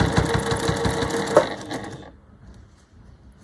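A sewing machine stitches fabric bunting flags in a quick, even run of needle clatter for about two seconds, then stops, leaving only faint handling noises.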